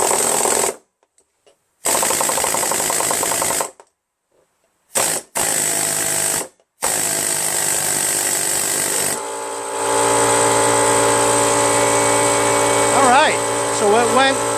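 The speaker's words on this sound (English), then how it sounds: "I'm playing with my air tool in the back here because I like the air hammer a lot." A pneumatic air hammer fed by a Brute Briggs & Stratton 10-gallon 125 PSI air compressor rattles in loud, rapid bursts separated by pauses, then the compressor motor starts up and runs steadily, with speech heard near the end.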